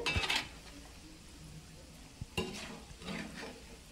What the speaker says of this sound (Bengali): এবার আমি ভেজে নেব, নাড়াচাড়া করে ভেজে নিতে হবে, লাল লাল করে ভেজে নিতে হবে।